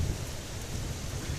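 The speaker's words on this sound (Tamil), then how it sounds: "மழை பெஞ்சிட்டு தான் இருக்குது." Steady rain pouring down in Vagamon, Kerala, a dense continuous hiss with a low rumbling undertone, close and unbroken throughout with no voices.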